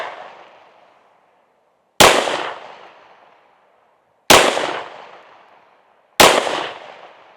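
Three loud pistol gunshots from a Ruger RXM fired at a shooting range during a defensive ammo test, each a sharp crack with a decaying echo, spaced roughly two seconds apart after a fading earlier report.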